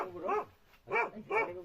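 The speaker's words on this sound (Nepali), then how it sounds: "बड्डा कुकुर" A big village dog gives three short barks, moderately close and fairly quiet, with brief pauses between them.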